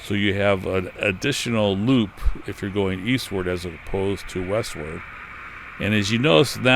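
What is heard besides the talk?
No everyday noise stands out behind the speech.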